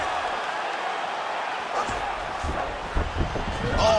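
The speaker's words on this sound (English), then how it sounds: "big pop from the crowd as they get back to their feet" A virtual arena crowd in the UFC 5 video game roars steadily for the whole stretch, the cheering swelling toward the end with commentary faintly underneath.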